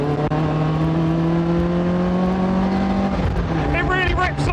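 A Caterham 620S engine drones loud and close with a steady tone, then the pitch drops and shifts as the car changes speed. The car sounds out on an open road.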